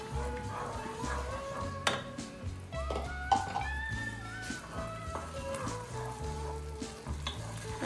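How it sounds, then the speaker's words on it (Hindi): Garlic-ginger paste fries with onions in a pan, a continuous sizzle with stirring scrapes and occasional clinks of a spoon on metal, partly under melodic background music. "ये मैं अभी अनियन में डाल दूँगी और उसको अबाउट थोड़ा सा भून लूँगी अबाउट 1-2 मिनट के लिए"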